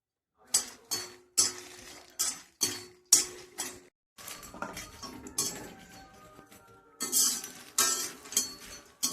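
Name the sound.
roasting makhana (fox nuts) in a pan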